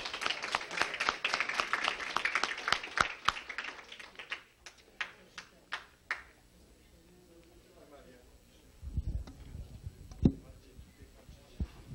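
A gathering in Chicago in 1986 honouring a Polish WWII fighter ace gives a dense burst of applause that trails off into a few scattered claps, followed by someone speaking.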